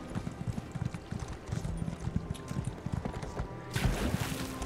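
Horse hooves clip-clop steadily in Elder Scrolls Online, a quick uneven patter of hoofbeats close by with a brief burst of louder rustle near the end.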